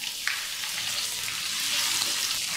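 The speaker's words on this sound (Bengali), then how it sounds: "তেলটুকু কিছুটা গরম করে নেওয়ার পর কেটে রাখা আলুগুলো দিয়ে দিচ্ছি।" Cut potatoes hit hot mustard oil and fry with a bright, steady sizzle, a slight burst near the start settling into continuous close crackling, no talking.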